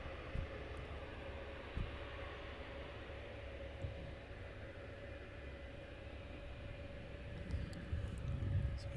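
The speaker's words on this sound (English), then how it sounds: "So we have the EasyJet now taxiing on" An EasyJet airliner taxis at foggy Luton Airport, its engines a distant, steady low drone with a faint whine that swells slightly toward the end.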